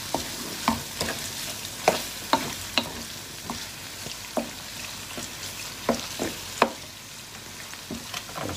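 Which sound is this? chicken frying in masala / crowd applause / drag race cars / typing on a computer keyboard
chicken frying in masala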